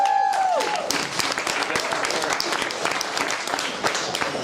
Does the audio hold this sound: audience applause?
yes